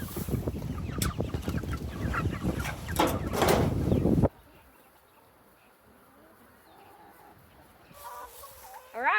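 Hens on a small farm cluck and squawk loudly up close for several seconds, then quieter coop ambience follows before a few more clucks and a brief chirp return near the end.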